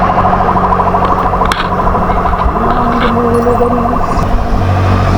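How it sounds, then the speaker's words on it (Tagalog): An ambulance siren wails amid loud, continuous traffic noise, its tone rising and falling under the steady roar of engines. "May ambulansya"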